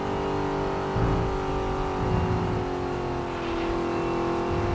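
A big, heavy Mustang in a racing game accelerates, its engine holding a loud, steady droning roar with small surges as it pulls, close and continuous without any talk.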